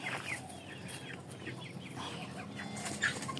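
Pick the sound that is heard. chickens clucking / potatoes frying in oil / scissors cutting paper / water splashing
chickens clucking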